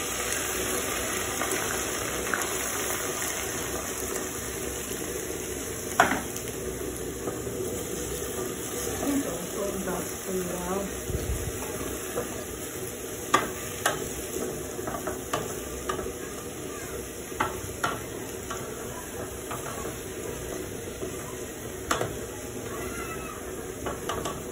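Onion and vegetable leaves frying and being stirred in a pot for Nigerian vegetable soup with waterleaf and ugu, a faint steady sizzle with occasional clinks of the spoon, under a person talking.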